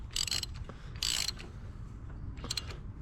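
Ratchet wrench torquing a part by hand on a lawn tractor during a service, a few short quick bursts of metallic clicking, close and fairly quiet, with a soft rustle between them.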